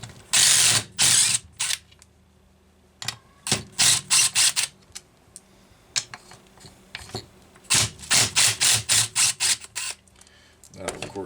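A ratchet works loose the nut on a Homelite Super XL chainsaw so the fuel tank can come off, sounding as bursts of rapid clicking strokes, close by and loud, separated by short pauses and some brief talk.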